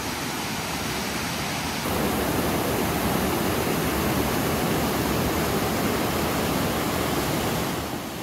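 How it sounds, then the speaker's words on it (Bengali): A forest waterfall in Kuldiha rushes down over rocks, a loud, dense and unbroken roar that swells slightly after the opening seconds and holds steady throughout. "প্রচন্ড শব্দে বয়ে চলেছে এই ঝর্ণাটা, এই ওপর থেকে একেবারে নিচে প্রবল গতিতে এটা ধেয়ে চলেছে।"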